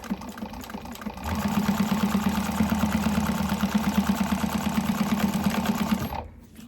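A sewing machine stitches a bag seam, running in a fast, even rhythmic chatter close by for about five seconds before stopping abruptly.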